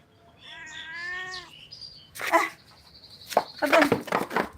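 A cat gives one drawn-out, fairly clear meow, followed by several bursts of sharp clattering and rustling noise nearby.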